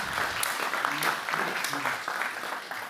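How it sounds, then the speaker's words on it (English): Audience at an academic panel on political autocracy and scientific independence claps for the panel members, a steady room-filling round of applause with a voice faintly heard beneath it. "a big applause to the members"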